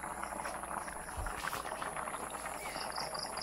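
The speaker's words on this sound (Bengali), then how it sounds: "আমার তরকারি রান্না হইতেছে" A pot of curry simmering on the stove, a faint, steady bubbling and sizzle with small scattered pops, close by and continuous with no talk over it.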